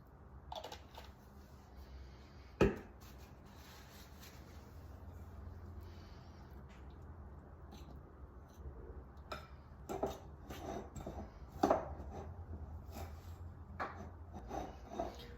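Shortbread dough with added vanilla is worked in a mixing bowl, giving soft, continuous rubbing and scraping. Occasional sharper knocks against the bowl stand out, and the whole is quiet and close.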